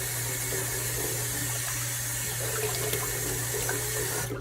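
Tap water runs steadily from a faucet into a sink while a face is rinsed after a shave, a continuous close hiss with no talking.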